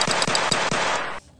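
Toy 'super power gun' firing an electronic sound effect, a loud, close rapid burst of about four shots over a second that cuts off abruptly.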